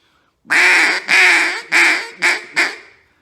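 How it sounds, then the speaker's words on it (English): Duck call blown in a five-note welcoming call, three long loud raspy quacks followed by two shorter ones in a quick descending cadence, close and alone. "It's long, long, long, short, short"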